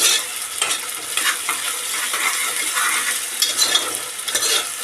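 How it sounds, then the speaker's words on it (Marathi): Ginger garlic paste sautéing in a pan while cooking green pea rice, a loud, continuous sizzle with stirring scrapes running the whole time, close and without talk. "आता त्यात अद्रक लसूणची पेस्ट टाकूया। परतून घेऊया।"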